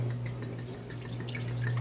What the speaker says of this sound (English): we're gonna take the slow cooker and we're gonna pour this red